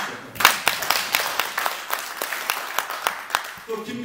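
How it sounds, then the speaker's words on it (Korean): Rhythmic clapping at a Korean political speech by a lawmaker, with sharp evenly spaced claps about three per second over several seconds, mixed with voices and a crowd murmur. "박수 주십시오"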